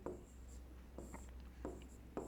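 Chalk or marker writing on a classroom board during a maths lesson, a few short scratchy strokes in quick bursts over a low room hum, with no talking.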